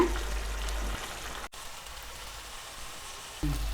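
Tomatoes sautéing in a pan for an egg gravy give a steady close sizzle that runs throughout without talk, broken by a short gap midway and a few soft low knocks near the start and end.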